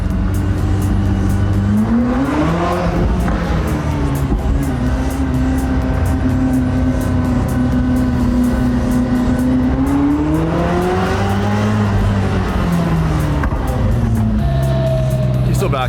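A Koenigsegg Jesko supercar drives past pinch points, its engine droning loud and continuous with rising and falling pitch sweeps as it accelerates, while voices talk over it.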